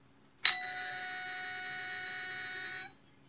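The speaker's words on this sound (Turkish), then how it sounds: "ding sesi geldi" An electric ding-dong doorbell sounds its single ding chime, a bright sustained bell tone that strikes sharply, rings evenly for over two seconds and then cuts off, close and alone in a quiet room.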